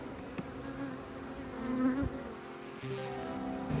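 Honey bees at a hive damaged by rats drone in a dense, steady buzz close by, with a few brief bumps and shifts in pitch and no voices over it.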